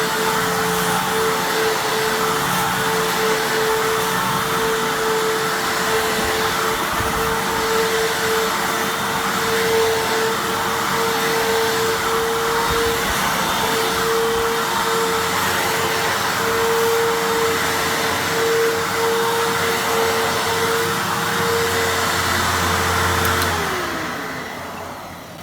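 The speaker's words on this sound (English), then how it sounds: "I just vacuumed my whole carpet in here, and this thing still picks stuff up" A Fantom Fury vacuum cleaner runs steadily with a loud, constant motor whine and airflow hiss, then winds down and cuts off near the end.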